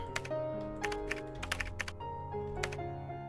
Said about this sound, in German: Da muss man sich richtig konzentrieren, dass man hier richtig tippt.